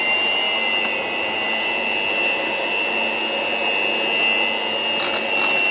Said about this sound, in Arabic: نحركهم بالخلاط الكهربائي ولكن في سرعه متوسطه